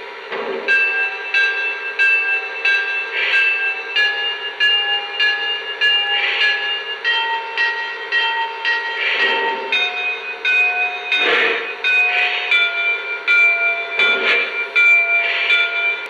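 A Lionel O gauge Grand Canyon Railway toy train set plays a run of five steady, pitched bell-like tones that shift from one to the next, with soft rhythmic chuffs recurring beneath them.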